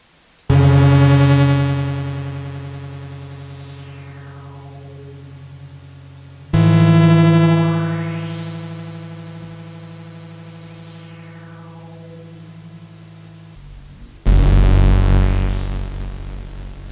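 Three long modular synthesizer swells, each struck loudly then slowly decaying with sweeping tones, repeating in a pattern looped through an Akai Head Rush looper pedal, with no voices.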